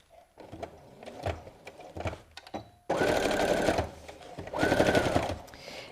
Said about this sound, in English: I'm just going to top stitch this one.